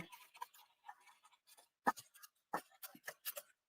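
Scissors snipping through paper while cutting otter-shaped pieces for a handmade fold card, a scattered series of short, sharp clicks and snips with quiet gaps between, close by and alone.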